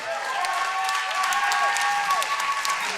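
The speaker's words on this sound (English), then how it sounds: "What are you applauding for?" A comedy club audience applauds during a live stand-up set, a steady wash of clapping across the whole stretch with a high electronic tone running beneath it.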